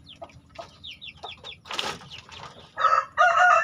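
Chickens at a coop cluck in quick close bursts, followed by a flurry of flapping wings and loud crowing calls from a rooster near the end.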